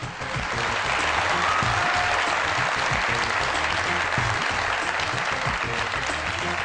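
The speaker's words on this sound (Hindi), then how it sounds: "आपकी बहुत सारी तालियों में जनाब फैसल सब्ज़वारी साहब" Studio audience on a Pakistani comedy talk show breaks into sustained, dense applause to welcome a political guest, steady and loud throughout with no talk over it.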